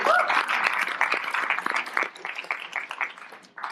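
Audience applause fills a lecture hall at the CCA in Santa Fe, New Mexico: a dense, steady patter of many hands clapping for nearly four seconds, thinning briefly near the end.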